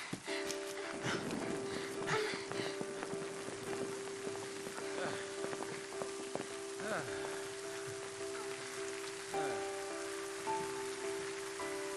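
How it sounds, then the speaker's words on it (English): Steady heavy rain pours in the video game Final Fantasy XIII, a dense hiss filling the scene throughout, with a constant low electronic hum and scattered soft patters and splashes. "It was just raining so much."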